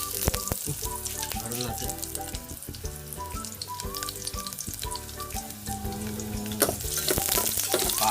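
Garlic sizzling in hot oil in a pan, a steady close crackle and hiss that holds throughout, with brief talk and some stirring clatter over it.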